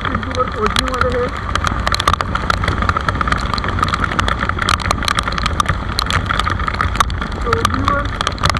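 Bajaj Avenger motorcycle engine accelerating toward 80 km/h on a road ride, a steady droning hum with wind buffeting and someone talking over it.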